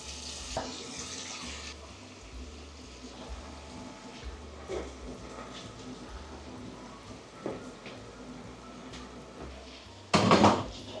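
Liquid poured into a pan of lightly cooked vegetables during home cooking gives a low, steady splashing wash over kitchen clatter, ending in a louder burst of pouring near the end, with no talk.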